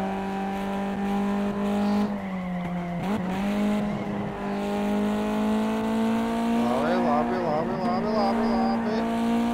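A Mitsubishi drifting through a corner in Gran Turismo 2: a sustained buzzing synthetic engine tone that dips and wavers as the tyres squeal through the bend, steady and loud, with a voice talking over it.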